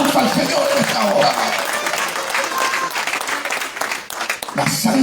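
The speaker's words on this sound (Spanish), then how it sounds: "Fuerte ese aplauso al Señor en esta hora." A church congregation claps for the Lord during a sermon on the blood of Christ. Steady applause fills the room while the pastor's voice carries over it and crowd noise swells near the end.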